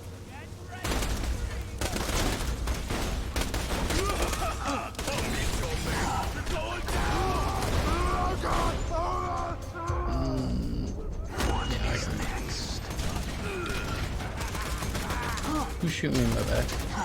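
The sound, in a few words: gunfire in the video game Borderlands 2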